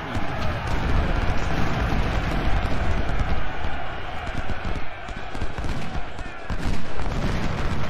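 Massed musket gunfire from a battle in the Civil War strategy game Ultimate General: Civil War, a dense continuous rumble of overlapping distant volleys with crackling shots layered over it.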